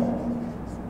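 Math problem written out during a class-ten math lesson, a short, steady scratch of writing over a low background hum, close and without talk.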